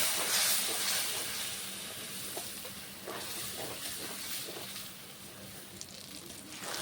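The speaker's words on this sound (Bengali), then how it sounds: "আর এখন আমি দিয়ে দিচ্ছি অল্প একটু জল মশলাটা কষানোর জন্য।" Water is poured into ground spices, including cumin, frying in a pan for a Bengali chicken kosha. The result is a steady, fairly soft steamy hiss and sizzle, with a few faint clinks and no one talking over it.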